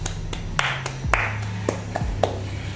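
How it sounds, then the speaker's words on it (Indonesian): A few separate hand claps ring out one at a time over a low steady hum, spaced unevenly and fairly close, bright and sharp against a quiet room with no talking. "Tepuk tangan dulu guys"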